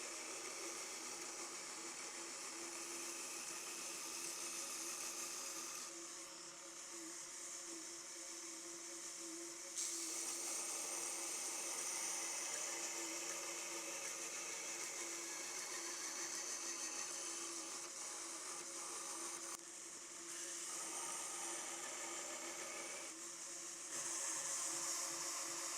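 Belt grinder running a brand new 600-grit silicon carbide belt against a blade, a steady, moderately loud abrasive hiss and whine that shifts a little as pressure changes, with no voices.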